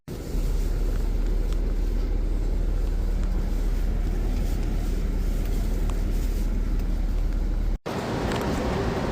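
An Amtrak connection bus travelling to Washington, DC, rolls along with a steady interior engine and road rumble that continues evenly, then breaks off briefly near the end.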